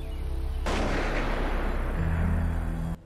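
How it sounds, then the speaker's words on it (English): A loud gunshot-like blast erupts suddenly and rolls into a long, roaring broadband rumble lasting over two seconds before cutting off, set in an early-morning drama scene, with no speech. "That is a gunshot."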